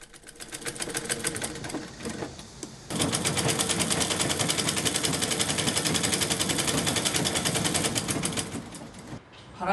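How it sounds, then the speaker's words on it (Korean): An elderly man's sewing machine runs steadily, a fast even mechanical clatter of the needle that briefly pauses, then resumes louder and continuous at close range, with no talk. "재봉틀과 착착 호흡 맞춰가는 그 손끝도 여뭅니다."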